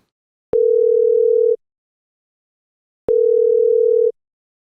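A telephone tone sounds while a phone call is placed, two steady one-second beeps separated by about one and a half seconds of silence, clean and loud.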